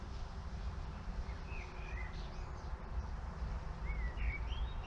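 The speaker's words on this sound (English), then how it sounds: "Hear a warbler." Faint warbler song with short whistled phrases rises above a steady outdoor rumble, several scattered notes from the bird some distance away.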